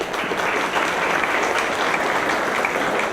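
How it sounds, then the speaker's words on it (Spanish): An audience applauds for Carlos Mendoza, former coordinator at UNAM, at a public event of INFO, the UN and Mexico's national archive: dense, steady clapping from a room full of people, sustained at an even level throughout. "un aplauso por favor a Carlos Mendoza"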